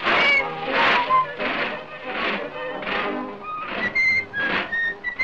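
A cartoon character whistles a tune during a blooper take, a string of bright wavering notes held close and loud, with short breaths between phrases and no talk over it.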